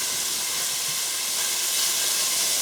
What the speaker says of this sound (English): here we are sauteing our peppers and onions